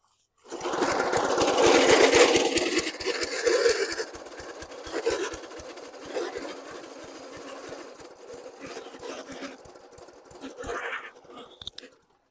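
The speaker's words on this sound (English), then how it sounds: "It started on its own full choke, but then died off." A 1986 Snapper lawn mower engine on full choke catches and runs with a rapid, uneven chatter of firing pulses close by, then slows and sputters out into silence.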